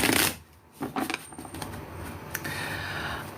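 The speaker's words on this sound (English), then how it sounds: "now let's shuffle our cards for Cancer" Tarot cards are shuffled close by, with a quick riffle burst at the start followed by softer, rapid papery shuffling and sliding of the deck.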